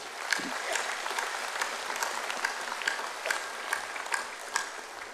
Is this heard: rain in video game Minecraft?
no